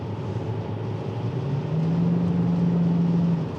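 A BMW 740 E38 V8 diesel accelerates hard, a loud, close interior engine roar whose low steady hum climbs in pitch midway and holds.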